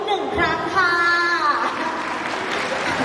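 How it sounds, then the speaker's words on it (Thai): An audience at a Tourist Model Ambassador event in Thailand applauds the hosts, a voice briefly heard first before a broad wash of clapping swells and carries on. "ขอเสียงปรบมือ"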